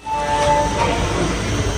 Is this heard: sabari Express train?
yes